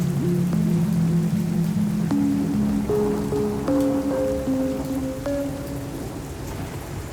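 Steady rain pours down in a dense, even hiss, with sustained musical tones drifting over it throughout.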